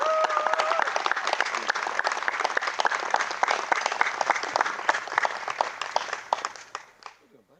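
A crowd applauds the three-time Ironman World Champion Craig Alexander at an evening event at Four Seasons Hualalai, with dense sustained clapping that fades out near the end.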